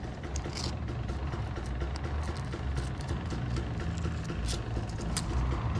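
A dirt bike engine runs steadily and close at an off-highway vehicle area, its continuous mid-pitched drone holding even throughout with small rattles and clatter riding on top.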